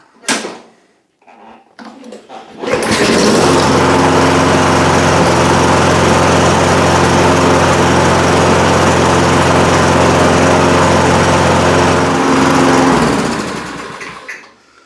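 A Toro Recycler lawn mower, after a no-start fix, stays quiet for a couple of seconds apart from a few handling knocks. Then it fires up and runs loud and steady for about ten seconds before the engine cuts and winds down. No talking.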